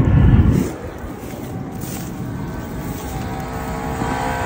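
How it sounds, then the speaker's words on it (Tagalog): A solar-powered water pump motor runs with a steady low hum after a brief louder rumble at the start, droning evenly without pause. "So narinig nyo guys, mandar na yung motor."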